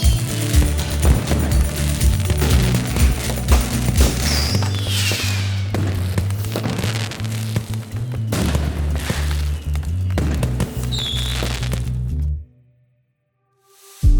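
Fireworks in the Disneyland Paris nighttime show burst in a dense run of booms, cracks and thuds over loud swelling show music, then everything cuts to near silence at the end.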